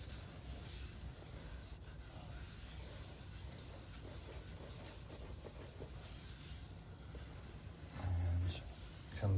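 A carved milliput house number plaque gets its final buffing on a lathe, giving a steady close rubbing hiss that runs unbroken for the whole stretch and swells louder near the end.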